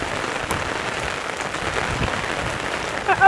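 Rain patters steadily on surfaces outdoors as a dense, even hiss, with a few sharper knocks and rustles near the end.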